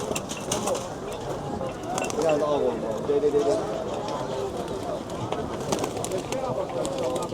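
Pigeons and other birds at an outdoor bird market in Sabunchu, cooing and calling continuously amid busy crowd chatter and background market bustle, people talking nearby throughout.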